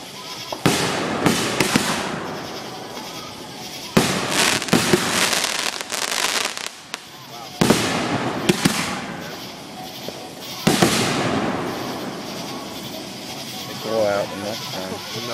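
Outdoor fireworks go off in a series of loud, sharp bursts and crackling booms, spaced several seconds apart, with people exclaiming nearby.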